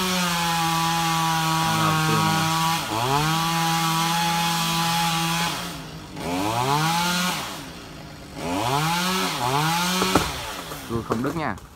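A chainsaw roars and whines through repeated cuts into a heavy tree branch, its pitch dipping and rising as it bites into wood, loud and close, with brief pauses between bursts.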